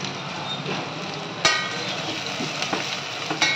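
Onions and green chillies frying in a hot pan give a continuous close sizzle, with a sharp utensil knock partway through and scattered stirring scrapes after it.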